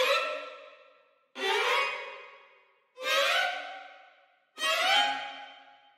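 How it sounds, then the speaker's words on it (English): Orchestral violin section from a sample library playing four rising runs, each a bright swelling sweep that fades before the next, about every 1.5 seconds, with no voices. "So we're going to start with the violins playing ascending runs."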